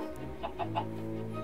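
A Minecraft chicken gives three short, soft clucks in quick succession over a steady humming background tone.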